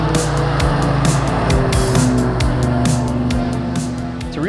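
Stock Mini Cooper race car on a track, now running RT660 tires, its engine droning loud and steady throughout with shifting pitch and short bursts of tire noise, no talking.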